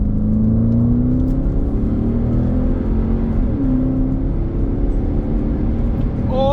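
A Porsche Cayenne SUV of about 2.3 tonnes and 650 horsepower accelerates hard, its engine note rising steadily through the gears. The sound is loud, close and continuous, with a quick shift partway through and no one talking.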